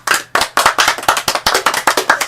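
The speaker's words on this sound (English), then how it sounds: "The slow clap?" A series of sharp hand claps, about a dozen in a steady, moderately paced rhythm, close and loud.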